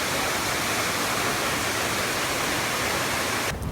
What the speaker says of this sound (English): We made it out to the end of the gorge to this waterfall.